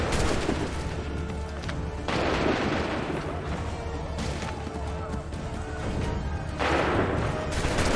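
Musket volleys in Assassin's Creed 3, booming gunfire in several heavy bursts over a constant noisy battle din, with shouted commands in between.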